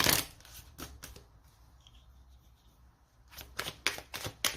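Oracle cards riffled and shuffled by hand for a reading, a burst of crisp flutters at the start, a quiet pause, then several rapid close shuffles, with no speech.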